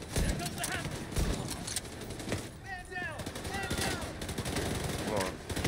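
Shotgun blasts fire repeatedly in a video game, as dense percussive gunfire with other game effects and close talking over the top.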